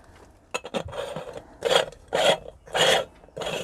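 Threaded parts of a small stovetop camping espresso maker twisting apart by hand: a few short metallic clicks, then three or four loud, close scraping rasps of metal threads grinding against each other, alone.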